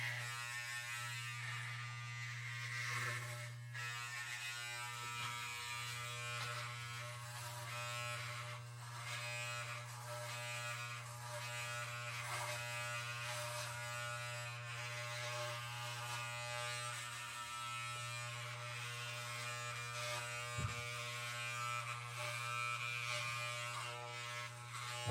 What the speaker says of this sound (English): every time you hear it, you still hear it. It's still cutting. It's still finding hair that's too long.